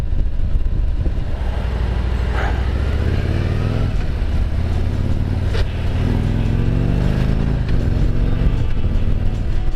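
A Harley-Davidson FLHT Electra Glide Standard motorcycle being ridden, its engine a loud, steady drone that rises and falls slightly in pitch as the bike leans through corners, with wind rumble beneath.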